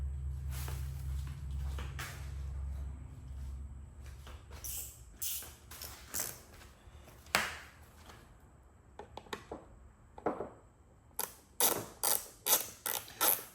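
A small ratchet wrench turns a T-bit while working on a C8 Z06 Corvette, close up, with quick bursts of sharp clicking that grow denser toward the end, after a low hum and some handling noise at the start.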